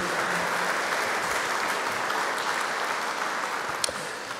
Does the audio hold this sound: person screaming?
no